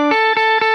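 An electric guitar plays through a POG octave pedal with no filter, giving a bright, sustained octave-doubled tone. Three quick picked attacks land evenly over a steady ringing note, close and fairly loud.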